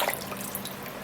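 Peeled food is rinsed under a running tap in a sink, a brief close splashing and dripping of water with no talking.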